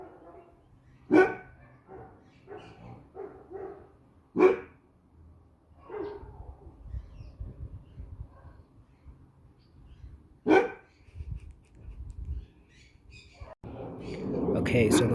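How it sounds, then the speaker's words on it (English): Several dogs bark in a home setting, with nearby and neighboring dogs giving sharp, separate barks in uneven bursts. A voice talks faintly in between, and a rising rustling noise closes the stretch. "with my dogs barking and neighbors' dogs barking"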